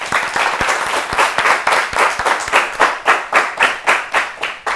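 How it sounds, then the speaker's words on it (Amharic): Audience applause rings out for a child contestant on a children's TV quiz show, a dense burst of clapping that gradually settles into rhythmic, pulsing claps toward the end. "ኬቲ በር አጨብጭቡለት በደንብ"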